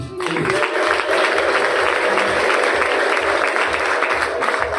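A church congregation applauds steadily and joyfully for God, dense clapping and crowd noise filling the room at close range without a break, with high ululation woven through.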